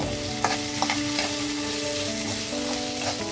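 Ginger garlic paste sizzles steadily in hot oil in a pan, a close, constant frying hiss with a few soft stirring scrapes and taps layered over it.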